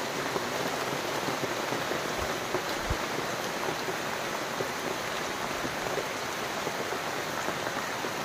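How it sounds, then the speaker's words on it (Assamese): Steady heavy rain drumming on banana leaves overhead, a dense continuous patter close by with no pauses and no voices. "বৰষুণ আহি গ'ল।"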